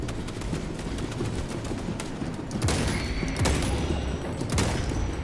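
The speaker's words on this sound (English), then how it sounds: "charging sniper rifle" A charging sniper rifle in a sci-fi shooter game fires amid dense, busy battle noise, with a couple of sharper, louder discharges standing out over constant clatter.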